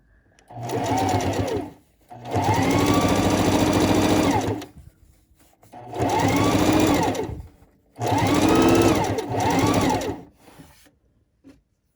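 Sewing machine chain piecing fabric for reusable gift bags, running in four loud, steady bursts of rapid stitching separated by short pauses, close up with no talk.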